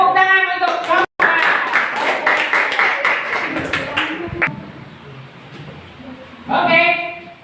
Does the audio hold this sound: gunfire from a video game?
no